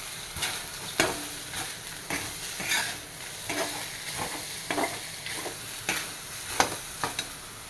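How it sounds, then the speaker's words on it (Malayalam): Coriander seeds and grated coconut roasting in a pan for Kerala varutharacha sambar, with a soft dry sizzle broken by regular scraping stirs roughly every half second, close and moderately quiet. "ഇതെല്ലാം കൂടി നന്നായിട്ടൊന്ന് വറുത്തെടുക്കണം."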